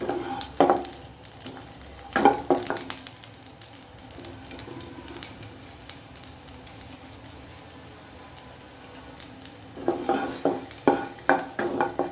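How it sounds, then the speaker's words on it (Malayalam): Garlic, about ten to twelve cloves, fries in hot oil for a vada pav masala, giving a steady sizzle with bursts of stirring and scraping near the start, around two seconds and again toward the end. "എണ്ണ ചൂടായതിന് ശേഷം വെളുത്തുള്ളി ഇട്ടെടുക്കുക."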